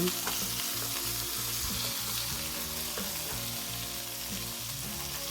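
Leftover chicken and beef sautéed with onion, tomato and chayote tops in a pan, giving a loud continuous sizzle with stirring scrapes heard up close and no talking.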